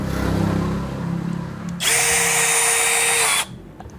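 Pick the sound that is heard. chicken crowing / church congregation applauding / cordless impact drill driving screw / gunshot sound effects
cordless impact drill driving screw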